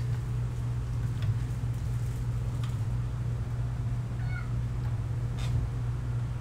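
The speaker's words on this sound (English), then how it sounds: "Kitty's back." A Minecraft cat gives a few faint, brief in-game meows, half buried under a steady, loud background hum.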